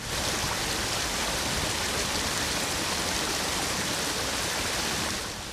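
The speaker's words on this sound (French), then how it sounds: "Au bout de l'étang, l'eau s'écoule en un petit ruisseau." Steady, dense rush of flowing water, like a small brook running continuously from the end of a pond nearby, with no voices.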